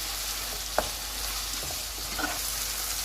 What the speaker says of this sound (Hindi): अब इसमें हम शिमला मिर्च और सब्ज़ प्याज को डाल देते हैं। और इनको हम 2 से 3 मिनट तक पकाएंगे।